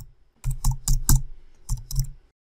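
Fingers type on a computer keyboard in two quick bursts of close, crisp key clicks separated by a brief pause, then stop.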